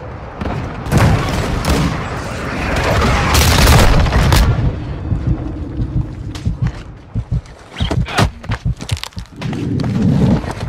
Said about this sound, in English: Missile deployed.